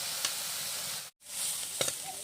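Pea greens with chilies sizzling in a pan while a spatula stirs them: a steady, close hiss of frying with scraping strokes and a brief silent break midway, no voices.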